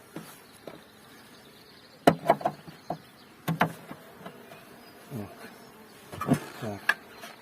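Honeybee colonies being moved between apiaries in large hives, a steady insect hum running underneath several sharp knocks and clatters of hive frames and boxes, with no talking.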